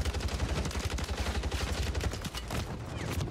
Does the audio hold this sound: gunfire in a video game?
yes